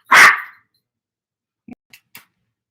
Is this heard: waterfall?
no